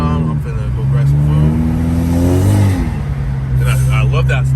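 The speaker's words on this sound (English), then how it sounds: "I love that I still hear my turbo clearly" A turbocharged car that has been modified to shoot flames drones along while driving, with a rising whine over the engine tone and someone talking over it.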